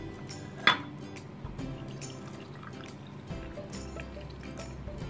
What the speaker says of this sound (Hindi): अब हम ये जूस डालेंगे।